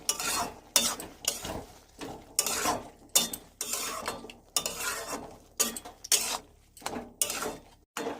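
A utensil scrapes and clinks against a pan as prawns are stirred with poppy seed paste, in a steady rhythm of short strokes repeating roughly every second, fairly quiet and close, with no talking.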